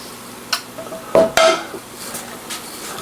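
A metal skillet clanks and scrapes in a home kitchen as it is pulled out and set down for frying catfish, a few sharp clinks close by with quiet handling noises in between.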